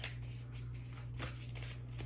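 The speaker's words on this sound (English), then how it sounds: "We'll get these shuffled a little bit." Quiet riffling and flicking of tarot cards being shuffled, a few soft bursts over a low steady hum.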